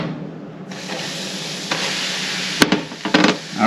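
A dark roux for Cajun shrimp étouffée is stirred in a hot pan, with a steady sizzle broken by a few sharp scrapes and clinks of the utensil near the end.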